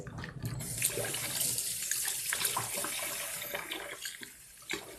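Cool water runs steadily from a tap into a sink for washing a curly synthetic wig, a continuous close splashing hiss with small gurgles, slightly easing near the end.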